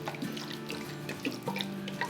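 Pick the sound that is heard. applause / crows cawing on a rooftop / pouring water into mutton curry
pouring water into mutton curry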